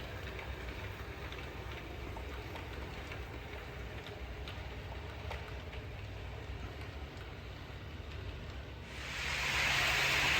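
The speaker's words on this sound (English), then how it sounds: "This train is certainly crawling along rather nicely, isn't it?" A small model train, the "Churchill" locomotive, rumbles steadily along its track with a faint rhythmic clatter, continuous and even, before a brighter hiss rises near the end.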